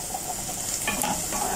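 Onions frying in a pan for sayadieh rice, a dense close sizzle with the scrape and shuffle of stirring over it, steady throughout.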